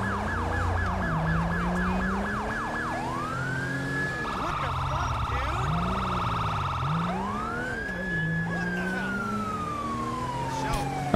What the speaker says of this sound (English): the reason I'm using partial of the original siren is because the one that I was trying to use didn't work for me